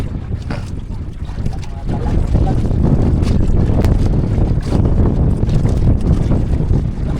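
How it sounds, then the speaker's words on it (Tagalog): Strong northeast monsoon wind roars across open water during night fishing from a boat, a loud, constant buffeting rush that swells and never lets up. "Lakas na naman ang amihan."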